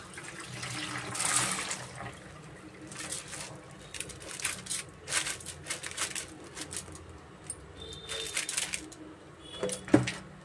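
Overnight-soaked rice is strained through a filter into a bowl, water trickling and splashing in uneven bursts, close and fairly quiet, with occasional clinks of the vessel.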